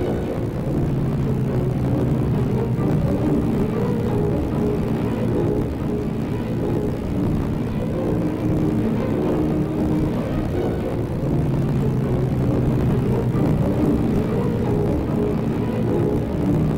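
Heinkel He 111 bomber engines drone in a steady, loud low rumble as the plane returns and lands, with no talk over the sound.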